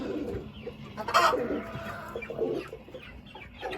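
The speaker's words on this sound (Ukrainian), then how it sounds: "Ось курочка барбаз'є. І оце курочка барбаз'є." Barbezieux hens cluck nearby in a coop, giving short, throaty clucks and a louder squawky burst over low farmyard background noise.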